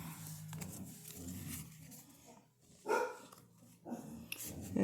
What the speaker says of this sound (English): I do apologize for my dogs. He never shut up.